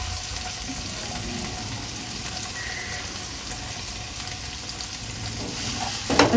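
Noodle ingredients sizzle and fry in a pan with a steady, close hiss that lasts throughout, ending in a short clatter.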